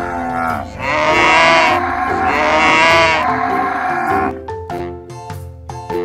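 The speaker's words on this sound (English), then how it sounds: "The cows mooed their melodious song." Cartoon cows moo in long, loud, drawn-out calls, two sustained lowing notes one after another, followed by short plucked musical notes from an animated children's farm story.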